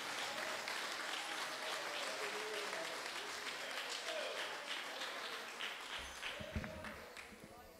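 An audience applauds in a church service, a crowd clapping continuously for several seconds, the sound slowly tapering toward the end.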